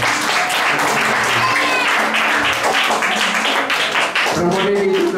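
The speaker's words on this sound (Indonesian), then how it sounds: "Tepuk tangan untuk Romo Agus dan Romo Lambert." Congregation at a thanksgiving mass in a hall clapping loudly for two priests, dense sustained applause close by with a voice speaking and faint musical tones beneath, swelling again near the end.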